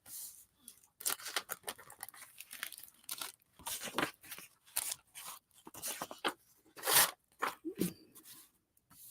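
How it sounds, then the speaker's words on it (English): Deli paper torn by hand along its edges for a collage, a close series of short dry rips and crinkles at an uneven rhythm, with brief pauses between tears. "Just tearing off the edges."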